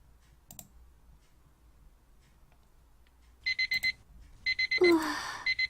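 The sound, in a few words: alarm clock ringing in the video game Phantasma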